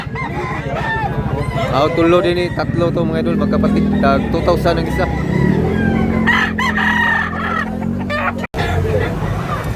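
Roosters crow repeatedly at a crowded chicken market in Tabunok, Talisay, Cebu, loud and close, mixed with clucking, a busy crowd murmur and someone talking throughout.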